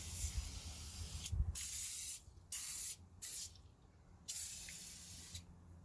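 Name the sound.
aerosol degreaser spray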